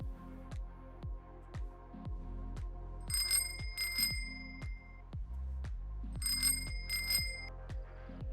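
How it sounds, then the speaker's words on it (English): A bicycle bell in the DayZ video game with working bicycles mod rings in two bursts of quick double dings over a steady looping thumping beat. "But it does have a bell as well, which is really cool."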